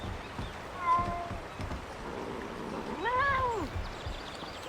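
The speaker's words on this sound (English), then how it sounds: "Oh my god," Cats meow in the Drakensang: The River of Time video game, two distinct rising-and-falling calls about two seconds apart, the second longer and louder, over a soft ambient background with faint rustling.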